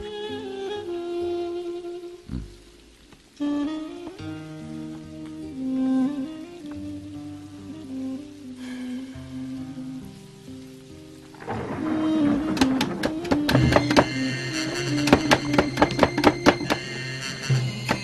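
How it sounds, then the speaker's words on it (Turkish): Heavy rain and rumbling thunder swell over a melodic music track, the downpour growing loud and dense in the second half. "Sanki gök delinmiş gibi yağıyor."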